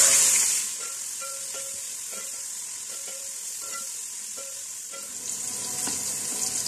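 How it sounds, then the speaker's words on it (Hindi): Sliced tomatoes frying with garam masala in a pan for chicken Mughlai biryani give a steady close sizzle, with a loud hiss at the start and faint scraping stirs throughout, no voices. "ये टमाटर इसमें डाल देंगे।"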